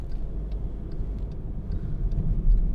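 A 2015 Volkswagen Transporter Shuttle drives along a motorway, giving a steady low road rumble and engine drone from inside the cabin with no voices.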